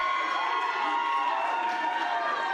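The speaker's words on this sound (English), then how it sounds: "And the crowd is really responding." Loud, steady wrestling crowd at an Asylum Pro Wrestling show, cheering and shouting continuously throughout with excited voices, children's shouts among them, and no pauses.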